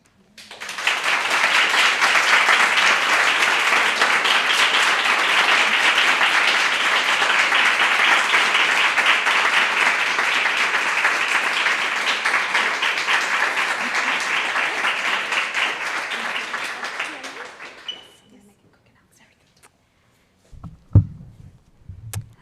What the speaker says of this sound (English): Let's give her another round of applause.